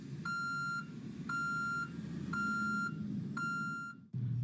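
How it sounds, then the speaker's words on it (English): An aerial lift work platform's tilt alarm beeps four times in a steady rhythm, each tone held for about half a second, loud over a low engine hum. "the tilt alarm will sound"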